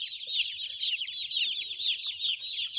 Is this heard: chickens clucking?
yes